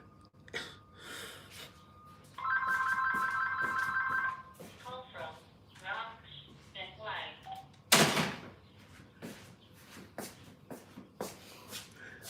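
A phone rings in a room, a bright electronic trill lasting about two seconds, amid shuffling, a sharp burst of noise and someone talking over it.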